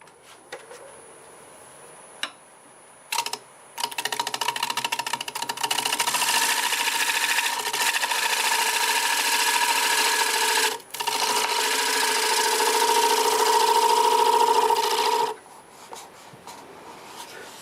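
Black walnut being cut on a lathe with a 5/8 bowl gouge: after a few brief taps, a loud, continuous rasping shear sounds close by for several seconds, breaks off briefly, then resumes before stopping.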